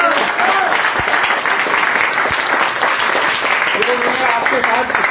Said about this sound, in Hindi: एक बार देव सर के लिए बहुत बहुत तालियां आप